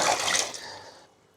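Water is poured from a vessel onto half a kilo of rice for a home-style veg biryani, a loud close splashing gush that tapers off within about a second.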